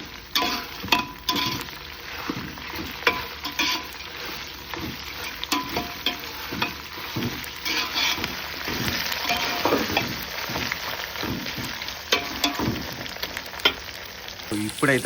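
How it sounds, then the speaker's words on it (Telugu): Green chillies fry in oil in a pan for pulihora while a spoon stirs them, making a steady crackling sizzle with repeated scraping strokes and clinks, close and continuous throughout. "పచ్చిమిర్చి వేసుకున్నాక కలపండి"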